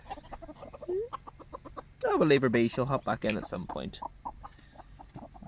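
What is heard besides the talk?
guinea fowl clucking as they are let out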